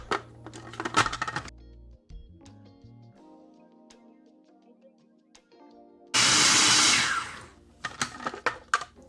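Blender whirring loudly for a few seconds as it purees homemade garlic paste with apple cider vinegar, with clinks and kitchen handling sounds before and after.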